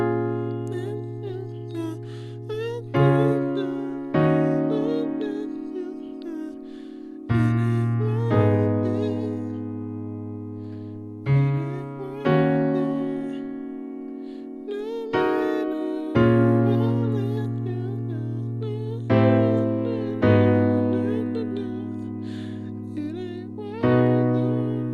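A piano slowly plays a section of a song, with full sustained chords struck about every two to four seconds under a soft melody line, each decaying gently, close and solo with no voices.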